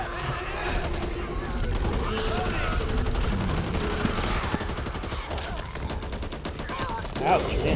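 Continuous automatic gunfire in Back 4 Blood, a cooperative zombie shooter, with steady fast shots and mixed impacts throughout, under players talking over the chaos.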